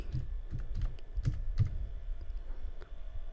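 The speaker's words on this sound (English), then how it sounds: "just type the same command as we have typed earlier" Close keystrokes on a computer keyboard type out a terminal command in a quick, irregular run of clicks and taps.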